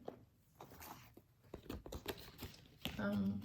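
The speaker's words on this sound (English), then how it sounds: "I'm just going to shuffle a card for you" Tarot cards riffle and slap softly during a close shuffle, a few crisp papery bursts followed by a denser flurry, with a voice talking quietly over it.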